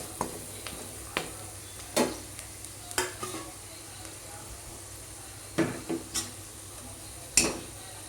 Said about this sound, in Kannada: ಧನಿಯಾ ಪುಡಿ, ಗರಂ ಮಸಾಲ ಎಲ್ಲನೂ ಹಾಕಿ ಚೆನ್ನಾಗಿ ಆಡಿಸ್ಕೋಬೇಕು ಈ ರೀತಿ.